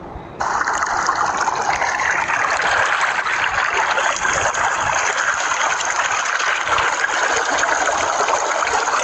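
A steady, close rush of water runs from start to finish, a stream flowing at constant strength with no voices over it.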